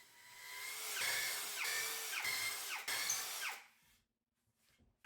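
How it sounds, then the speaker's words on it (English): A power drill with a bit reaming out snug dowel holes in cherry wood for a live-edge bench: several short repeated whirring bursts as the bit goes in and out, close, ending in quiet. "I went back and cleaned up the drill holes with the same drill bit"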